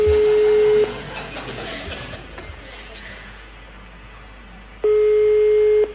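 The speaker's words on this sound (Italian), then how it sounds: "Sta squillando, Il suo telefono." A telephone ringback tone on a phone call, two long steady electronic beeps separated by a pause of about four seconds, with a low background hum and faint voices between the tones.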